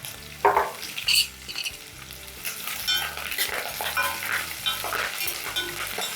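Onions sizzle and fry in hot oil with green chilies and curry leaves for a spiced South Indian dal, a steady crackle broken by a few louder stirring scrapes, close and with no talking.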